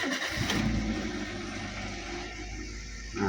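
A car engine, its fan belt removed, cranks and catches early, then runs with a rough, uneven mechanical drone nearby for a few seconds.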